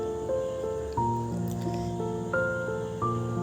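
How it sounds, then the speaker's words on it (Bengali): Fried sesame seeds tipped into hot cooked jaggery in a pan, giving a sizzling, squishy bubbling with a few soft stepped bursts, close and steady, no talking. "এবার আমি এই পর্যায়ে ভেজে রাখা তিলটা দিয়ে দেবো।"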